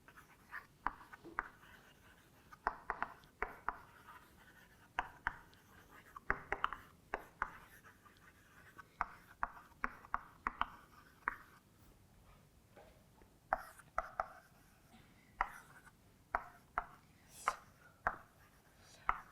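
Chalk writing on a board during a mathematics lecture, a long run of faint scratchy taps and short strokes in irregular bursts, quiet and somewhat distant with no clear speech.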